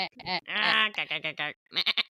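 A person imitates a sheep, producing a wavering, drawn-out bleat followed by shorter choppy bleating bursts, close and fairly loud.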